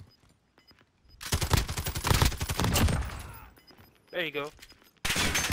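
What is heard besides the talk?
gunfire from a Call of Duty: Warzone video game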